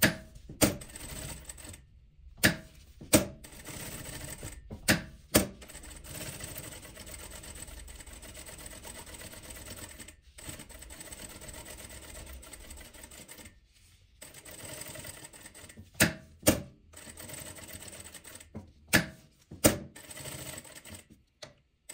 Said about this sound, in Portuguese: Vou levar na máquina e costurar em volta, deixando uma abertura aqui para desviar.